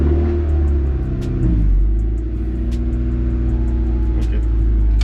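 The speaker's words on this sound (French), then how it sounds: "première étape, redémarrer la voiture, faire une petite ligne droite" A Honda Civic EK3 engine runs and pulls away at low speed, a loud close rumbling drone whose pitch rises and falls, with scattered sharp clicks and taps from inside the car.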